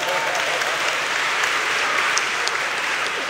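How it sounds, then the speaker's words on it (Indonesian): Dense applause from a crowd at a santri cultural evening, loud and sustained with no letup across the short stretch, a constant wash of clapping hands. "Ya, tepuk tangan dulu enggak apa-apa."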